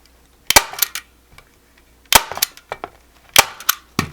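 A staple gun loaded with 1/4-inch staples fires into ribbon on a flip-flop wreath sign, giving three loud, close bursts of sharp snapping clacks, each followed by smaller rattles, with quiet gaps between.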